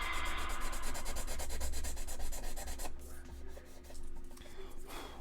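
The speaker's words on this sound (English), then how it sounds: "Once I rough it up with this, I'll go back with smooth sandpaper and get this even smoother." Steady scratchy rubbing of a Squadron sanding stick against a plastic model, continuous strokes close up with a faint background hum, easing briefly near the end.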